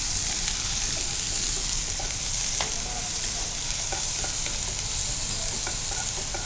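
Chopped onions fry with whole garam masala for an Ulavacharu kodi pulusu, giving a steady, loud, continuous sizzle with occasional soft stirring scrapes throughout.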